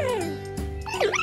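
Puppy whimpering and yipping, a few high wavering whines and short yelps in quick succession, close and fairly loud with no talk.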